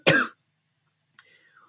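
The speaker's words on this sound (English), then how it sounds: "my bad on the coughing there" A single sharp cough up close, followed after a pause by a shorter, fainter throat sound.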